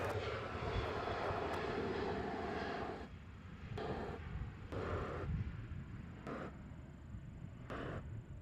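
An Atlas Air cargo jet in Prime Air livery departs Nashville International Airport, its engines a steady broad roar for the first few seconds, then the sound wavers and fades under intermittent background noise.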